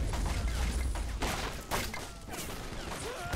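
A ragged musket volley in the Corsairs Magic Storm Mod video game, set at a 1709 Russian forest outpost, with overlapping gunfire bursts and thumps crackling at a distance over a dense battle din.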